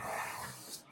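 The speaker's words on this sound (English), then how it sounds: "Oh, those dogs." Dogs making noise inside a house, a broad breathy, rough sound with a growl-like texture, close and moderately loud and steady for under a second, with no talking.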